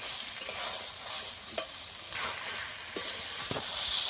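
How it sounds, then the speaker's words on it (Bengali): Bom fish sautéed in a pan with spices, a steady soft sizzle broken by several sharp scrapes and knocks of a spatula stirring against the pan. "আবারও ভালো করে কষিয়ে নেব।"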